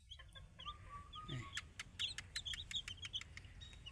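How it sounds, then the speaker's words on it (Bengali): Broiler chicks and four local desi chicks cheep in a shed during hot weather, with a steady run of high, thin peeps and chirps from several birds that grows busier toward the end, over low background hum. "এর ভিতরে আবার আমার দেশি মুরগির বাচ্চা আছে 4 পিস"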